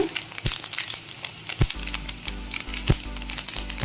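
Cumin seeds and chana dal fry in hot oil in a pan, giving scattered crackles and a few sharper pops over a faint steady sizzle.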